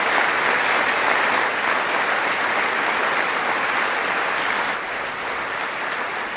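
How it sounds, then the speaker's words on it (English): Loud sustained applause from a large audience at a State of the Union address, a dense, even wash of clapping that carries on unbroken and eases slightly toward the end. "Can we get some goddamn claps for our brave boys?"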